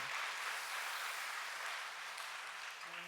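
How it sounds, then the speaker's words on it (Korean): A church congregation applauds during a Sunday afternoon service honouring its youth, a faint, even patter of many hands clapping with no talk over it. "우리 박수로 하나님께 영광 돌리겠습니다"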